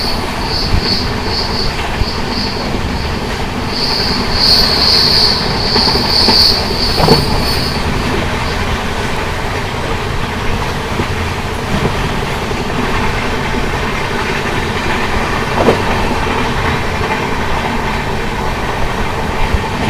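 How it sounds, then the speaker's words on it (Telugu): Cocanada SF Express (Lingampalli to Kakinada Town) running and picking up speed on rails, with a steady loud rumble of wheels, shrill wheel squeals in the first seconds and occasional clatters, heard alone. "సో బండి అయితే బాగానే యాక్సిలరేట్ అవుతుంది."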